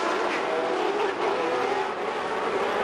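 Formula 1 race cars roar around the circuit at the 1990 Hungarian Grand Prix, a loud, continuous wall of high-revving engine noise from cars running close together.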